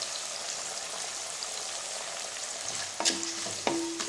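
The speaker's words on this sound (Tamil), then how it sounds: "இதில் ஒரு பெரிய சைஸ் நாட்டு தக்காளி எடுத்திருக்கேன், இதையும் நல்லா வதக்கிக்கலாம்." A large country tomato sautéing in a pan, a continuous bright sizzle with light spattering, then a couple of sharp metallic clinks from a stirring utensil near the end.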